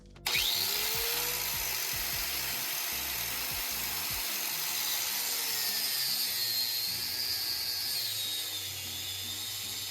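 A hand saw cuts into the body of a Saab car: a steady, loud rasping drone that holds for the whole stretch after a sharp start, close up with no voices.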